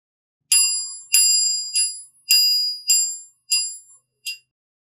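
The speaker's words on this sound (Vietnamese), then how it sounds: "Đó là cái chuông như xe đạp nha." A bicycle-style bell on an early single-cylinder Mobylette moped rings about seven bright, close dings in quick, uneven succession, each with a short metallic ring-out, with no talking.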